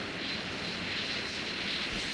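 Steady jet engine roar from an aircraft in the Falcon BMS flight simulator after launching an AGM-84 Harpoon missile, a constant broadband rumble and hiss holding at even loudness throughout.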